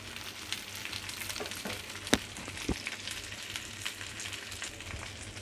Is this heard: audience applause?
no